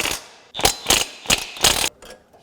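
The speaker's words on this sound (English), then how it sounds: "We have to remove these 4 bolts. We're going to take out the bottom 2 first." Ratchet wrench loosening bolts on a Kubota while fitting tie-down brackets, four quick clicking bursts of ratcheting in an even rhythm, close and loud, then a faint click at the end.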